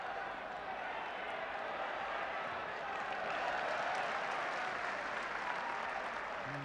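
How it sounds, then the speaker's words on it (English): Football stadium crowd at the 1984 British Home Championship match between Wales and England, applauding Ray Wilkins as a steady, dense wash of distant clapping and crowd noise that swells slightly midway. "And he gets good applause, Ray Wilkins."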